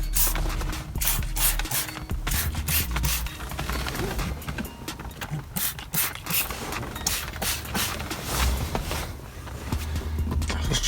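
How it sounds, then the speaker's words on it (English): A trigger spray bottle mists cleaner onto a leather car seat in a Lincoln Town Car, with a run of quick, close hissing squirts and soft mechanical clicks of the trigger. "Let's spray some on this side."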